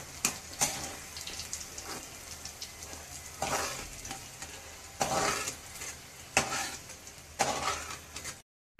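Okra (benda kaya) fries crisp in a pan with a continuous soft sizzle, broken by repeated loud scraping and stirring strokes at irregular intervals.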